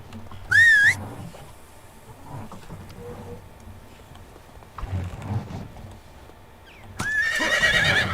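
A horse neighs in the medieval life-sim video game Medieval Dynasty: two shrill, wavering whinnies, one near the start and a louder one at the end, with soft hoof clip-clops and quiet game ambience between.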